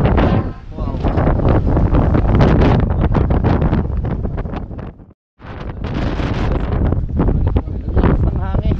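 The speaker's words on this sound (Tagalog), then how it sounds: "Lakas ng hangin. Grabe." Loud, gusting wind buffets the microphone in heavy roaring bursts, briefly dropping out before surging again, with a voice partly buried beneath it.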